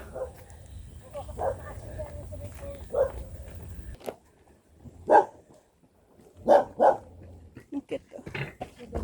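A dog barks several times near Mui Wo waterfalls in Hong Kong, in loud separate bursts that are fairly close. People talk in between.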